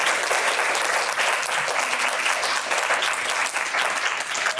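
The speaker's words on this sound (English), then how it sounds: "Round of applause for our panelists." An audience claps continuously, a dense, steady wash of applause from many hands throughout.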